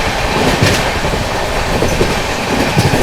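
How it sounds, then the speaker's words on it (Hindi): The Punjab Mail express train thunders past at high speed, a loud, continuous roar of rumbling wagons and rapid clickety-clack from the wheels, close by and steady throughout. "पंजाब मेल ने क्या ही तो रफ्तार बनाई है दोस्तों।"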